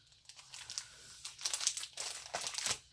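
A set of forty recipe-card paper sheets is handled close by, giving soft crinkling and rustling with a few sharper crisp flicks, quiet and irregular with no voices.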